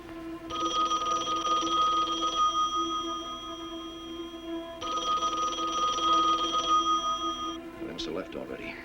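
A telephone rings in two long electronic trills separated by a short pause, moderately loud and steady, with a brief clatter at the end.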